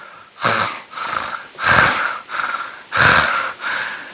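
A man imitates heavy panting with his voice, producing six loud, ragged breaths in alternating strong and softer bursts, each gasp rough and breathy.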